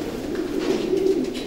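Pigeon hen at a racing pigeon stud cooing in a low, throaty, rolling burst, close and fairly loud, brief and alone.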